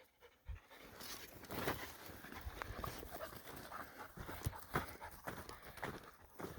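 A dog panting hard as it runs off to fetch a shed antler outdoors in hot weather, with heavy rhythmic breaths and footfalls crunching through brush, close and steady.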